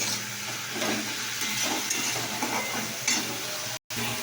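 Masala spice paste fries steadily in oil, a continuous close sizzle with soft stirring scrapes throughout and a brief cut to silence near the end.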